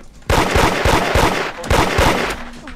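Rapid bursts of gunfire in the Roblox game Da Hood, loud and close, with repeated sharp shots over about two seconds before tapering off.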